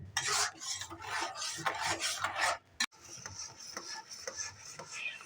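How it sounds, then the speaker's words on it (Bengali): Tomato sauce with sugar being stirred in a pan, a steady scraping rasp of the spoon against the pan bottom in quick repeated strokes, close and moderately loud with no talk. "চিনিটা দিয়ে গলা পর্যন্ত আমি চিনিটা দিয়ে নাড়তে থাকবো।"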